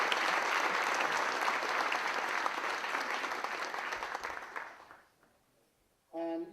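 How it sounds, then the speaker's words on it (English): Audience at a Cruyff Football presentation gives a dense round of applause that holds steady, then fades out over a second before a short unrelated sound at the end. "Can we give a round of applause, please?"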